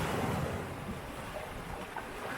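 Water rushes around a boulder in a stream, a steady, soft broadband wash of flowing water with no voices.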